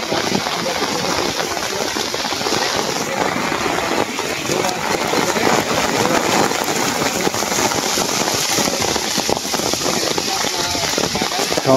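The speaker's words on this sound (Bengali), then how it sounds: "ঝুম বৃষ্টি।" Heavy rain pouring down on a water-lily wetland, a dense continuous hiss and patter, loud and steady throughout.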